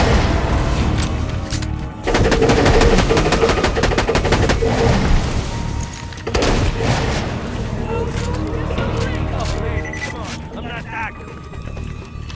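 Gunfire in the video game Borderlands 2, dense bursts of rapid shots and booms layered over continuous game noise, loud and close, with a voice talking over much of it.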